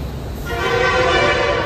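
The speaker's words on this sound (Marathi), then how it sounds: "हॉर्न मारून कालवा करतायत बघा बिनकामाचं" A vehicle horn blares continuously and loudly amid busy traffic noise, growing stronger after a brief moment.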